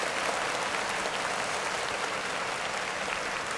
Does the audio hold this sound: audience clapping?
yes